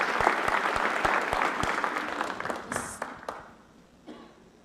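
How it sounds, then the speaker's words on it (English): Audience applause at a panel discussion, honouring the AV booth technician: a dense, steady round of clapping from a crowd that tapers off and ends within a few seconds. "So let's please give him a round of applause as well."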